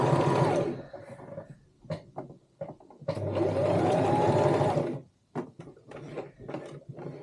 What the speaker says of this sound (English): Put your foot back down and then continue sewing.